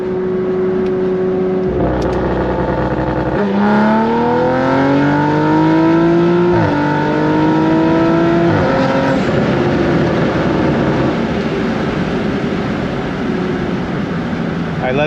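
Audi RS5 Stage 2 running a launch control start in sport dynamic mode: a loud, close engine revs up and pulls hard through several rising gear-change sweeps over about fifteen seconds, with no talk.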